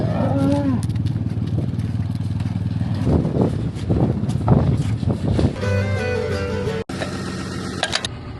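Cows lowing on a farm at calving time, a couple of deep drawn-out moos amid loud wind noise and rumbling background, with scattered knocks and clatter.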